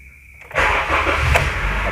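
A 2008 Honda CR-V with a 2.0 engine and automatic gearbox starting up, a brief starter whirr that catches into a loud, steady idle, heard close and alone.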